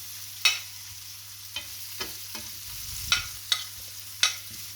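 Onions and whole garlic cloves fry quietly in a pan under a low hum, with a faint sizzle and several sharp scrapes and taps as a utensil stirs them.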